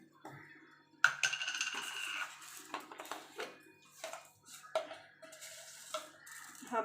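Half a spoon of whole cumin seeds hits hot oil in a pan over a low gas flame while making plum pickle, giving a faint rattling patter and light sizzle, with a few utensil clinks.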